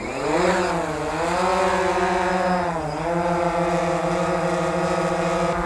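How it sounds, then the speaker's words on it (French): The motors of a Wingsland M1 drone spin up with a rising whine as it lifts off. The close, loud tonal hum settles into a steady pitch and dips briefly midway, with no talk over it. "Donc, on va démarrer les moteurs. Voilà. Et puis, on va monter."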